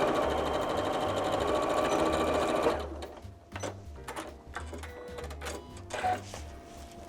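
Sewing machine stitching gingham fabric, a close, steady motor whir with rapid needle chatter for several seconds, then stopping, followed by scattered handling clicks and fabric rustle.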